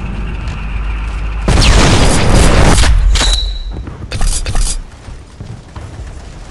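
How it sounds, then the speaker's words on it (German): A grenade blows up in a first-person shooter video game on a map called New Camerton. One loud, booming blast lasts about a second and a half before fading, and a smaller burst follows. "Ich werfe die Granate!"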